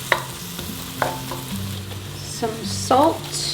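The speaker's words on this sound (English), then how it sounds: "we're gonna go ahead and melt this butter with our onions and just get those sauteed" Butter and onions sautéing in a pan, a steady soft sizzle with occasional utensil taps, while a person talks briefly over it near the end.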